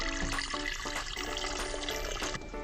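Water pours steadily while a child's school packed lunch is prepared in a home kitchen, a continuous close splashing stream with no talk.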